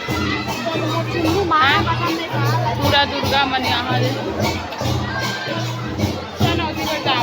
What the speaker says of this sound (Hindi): और यहाँ भीड़ भाड़